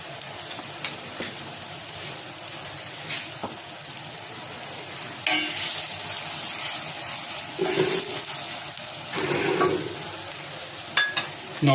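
Garlic paste frying with onions in a hot pan, giving a steady close sizzle and hiss with a few louder bursts of stirring and spluttering, with no talking.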